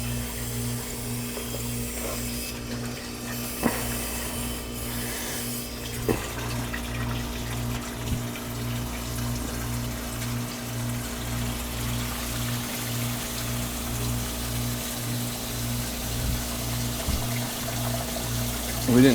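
Water trickling and pouring steadily from a leak in a disconnected oil heating system, with a rhythmic mechanical pulsing underneath and a few faint knocks.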